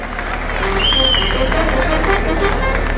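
Audience applause at a festival music presentation in the Nola area of Italy, a steady dense wash of clapping and crowd noise from start to finish, with a bright whistle-like tone briefly rising above it.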